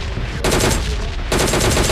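Automatic rifle fire in PUBG Mobile Lite, two sustained bursts of rapid, loud shots close up, with a brief break between them and no voices over the top.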